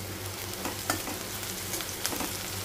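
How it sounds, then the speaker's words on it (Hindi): Onions and paneer frying together in a pan for a Lahori paneer dish, giving a steady soft sizzle with a few faint stirring clicks, close and fairly quiet, no talking. "सो गाइस इधर हो रहा हमारा पनीर रेड और इधर हो रहे हैं हमारे प्याज रेड"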